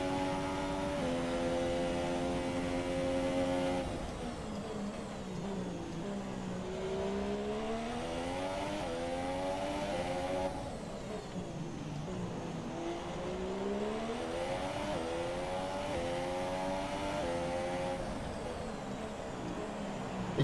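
Racing car engine in the F1 2017 video game, revving hard with repeated rising pitch sweeps broken by quick upshifts, a steady loud drone running continuously without talk.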